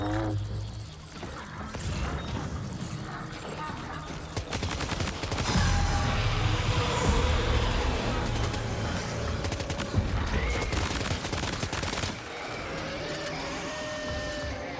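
Rapid bursts of gunfire in the video game Death Stranding 2 crackle loud and close in dense volleys, with sharp single shots breaking through near the start and end.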